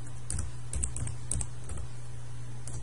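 Quick bursts of keystrokes on a computer keyboard, a few close clicks tapping in short irregular runs over a low steady hum.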